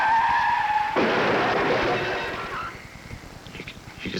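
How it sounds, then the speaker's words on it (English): A car goes into a sideways skid and crashes into an oncoming car on a highway: a sharp tire squeal gives way to a loud, broad burst of scraping noise, then fades into rumbling, rattling debris. "Bill's car suddenly went into a side skid,"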